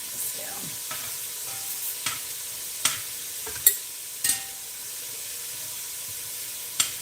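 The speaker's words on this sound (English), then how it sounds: "Throw some of these onions in here." Chopped onions sizzle and fry in rendered fat in a pan while being cooked for pozole rojo, with a steady hiss broken by repeated sharp scrapes and clacks of stirring, close up and without talk.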